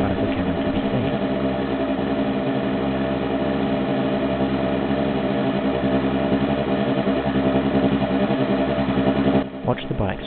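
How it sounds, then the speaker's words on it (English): Engine drone of motorcycles in a 3D simulation as they crest a hill and tilt down the slope, a steady continuous rumble with a voice speaking over it throughout. "Watch the bikes crest the hill."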